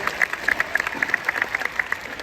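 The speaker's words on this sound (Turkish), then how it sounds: "Alkışlarınızla gelsin ekibimize alkış" Scattered clapping from a small audience for a performing team at a sketch show, a loose run of separate claps, fairly faint and brief.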